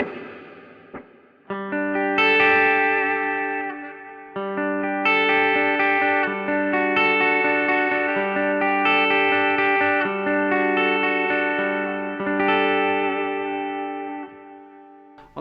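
Electric guitar on the bridge pickup, played through a Strymon Iridium set to its Fender amp model, strums bright sustained chords with a chorus-like shimmer, loud and close for about fifteen seconds, no voices.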